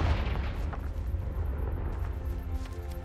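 A Confringo spell blast in the Hogwarts Legacy video game: a dense, rumbling boom that stays loud and sustained for about three seconds, heavy and close, with no talk over it.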